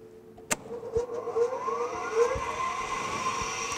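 An eddy current brake demonstration rig's rotor motor spins up after a sharp click, a steady whine climbing in pitch with faint rising harmonic tones, fairly quiet and heard alone without talk.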